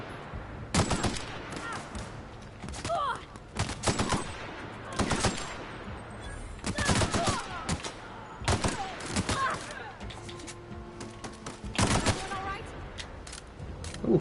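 Repeated gunshots from a gun in The Outer Worlds, fired in short clusters of sharp, loud bangs with brief pauses between bursts, spread across the whole stretch with some talk mixed in.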